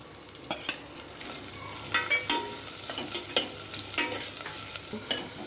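Small chopped onions hit a hot pan with roasted peppercorns and fry for a lentil and pumpkin soup, giving close sizzling and crackling broken by repeated scraping stir strokes, with no speech.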